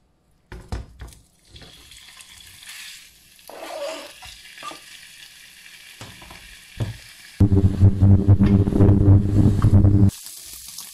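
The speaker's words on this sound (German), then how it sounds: "In die Pfanne gebe ich etwas Öl und werde hier das Fleisch zuerst anbraten." Beef frying in oil in a pan, with stirring and clattering at first, then a loud, steady sizzle for a few seconds.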